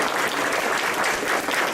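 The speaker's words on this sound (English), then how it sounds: "so give a big applause to" A lecture hall audience at an architecture school guest lecture applauds at the close of the program, a dense, steady wash of many hands clapping at once, loud and continuous throughout.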